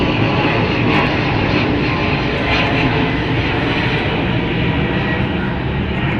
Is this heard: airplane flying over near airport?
yes